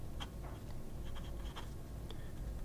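A steel fine-point nib on an Infinigrav pen scratches across paper in short, faint strokes and ticks, close up and quiet over a low background hum.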